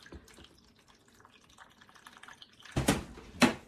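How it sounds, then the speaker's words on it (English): Hot water poured into the base of a container while infusing coffee into oil: quiet handling and faint drips first, then two loud, short splashing pours near the end, with no talk. "we're just going to add some hot water to the base here"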